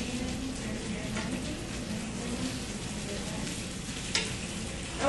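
Rice cakes sizzle and fry in hot olive or canola oil in a pan, a steady, even crackling hiss throughout with a few sharper pops near the end; no talking.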